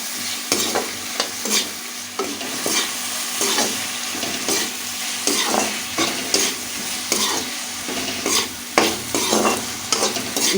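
Onions cooking in a pan with salt and turmeric, stirred with a spoon: a constant sizzle under repeated rhythmic scraping strokes and clinks, close and fairly loud.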